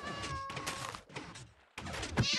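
A cat in Minecraft meows a few times in short separate calls, close and fairly quiet, with small game thumps between them.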